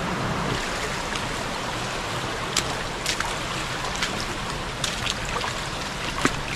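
Water flows steadily in a large creek, a continuous broad rushing wash with occasional small splashes and trickles rising above it. The sound is constant and moderately loud, with no voices.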